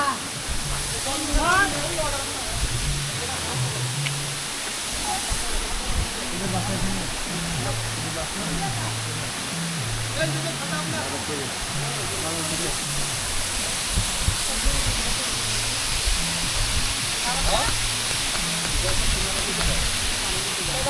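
A waterfall at Debotakhum in Bandarban rushes as a constant broadband roar throughout, with people talking over the steady water noise.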